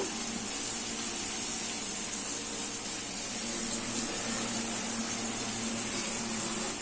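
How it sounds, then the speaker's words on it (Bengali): A little hot water pours into a bowl in a home kitchen, a continuous, even splashing rush that lasts throughout without pause. "বাটিতে একটু জল নিয়ে নেব, গরম জল সামান্য"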